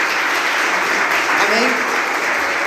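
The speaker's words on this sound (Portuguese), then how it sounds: "Você pode aplaudir o Senhor com bastante alegria" A church congregation applauds together in sustained, dense clapping that fills the space at a steady level, with faint voices mixed in beneath it throughout.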